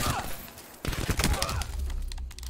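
Rapid gunfire from the player's weapon in Call of Duty: Black Ops 4, a dense burst of shots up close, fading into a steady rattle, with game voices mixed in.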